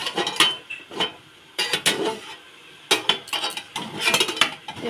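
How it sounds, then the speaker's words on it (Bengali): Metal pot lid lifted and water poured into a pot of potatoes set to boil, in a home kitchen while cooking mustard hilsa, heard as several bursts of clinks and clatter separated by brief quiet gaps. "আলু একটু জল দিয়ে দেবো সিদ্ধ হওয়ার জন্য ঢাকনাটা খুলে"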